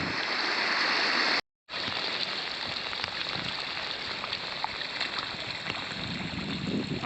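High water rushing steadily through a creek in Upper Bidwell Park, a loud, dense broadband roar close by that continues almost unbroken apart from a brief dropout.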